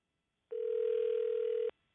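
A single steady telephone tone rings out for just over a second, clear and close, then cuts off into silence.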